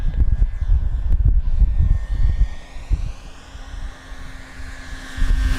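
A Dynam PT-17 biplane RC model, 1300 mm wingspan, passes overhead with its electric motor at full throttle, a steady whining drone over low wind rumble that fades as the plane moves away.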